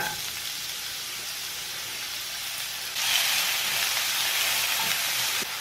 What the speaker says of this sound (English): On a medium-high heat, add 1 tablespoon of oil to the pan and then add the zucchini.